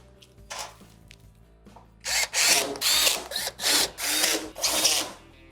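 A power drill drives 1/4-inch screws into a Frigidaire stove's main control board, firing in five or six loud, close bursts of whirring with short pauses between them, after a few faint clicks and handling noises.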